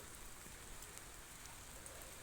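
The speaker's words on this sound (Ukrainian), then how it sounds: "Напустився дощ, не дає нормально попрацювати." Steady rain falling outdoors during a grapevine seedling dig, a dense even hiss of drops that holds constant throughout, with no voices.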